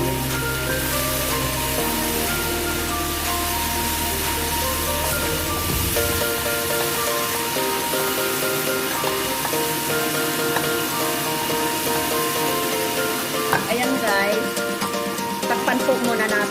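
Potatoes and carrot are stirred into a chicken curry cooking in a pot, with a steady, loud sizzle throughout and faint scraping of the stirring beneath it.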